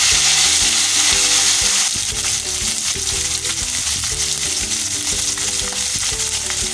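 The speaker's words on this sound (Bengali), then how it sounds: "তেল গরম হয়ে গেছে, আমরা মাছগুলো হালকা করে ভেজে নেব।" Mourala fish frying lightly in hot oil for crispy pakora, giving a loud, steady sizzle throughout with a tonal, melody-like layer running underneath.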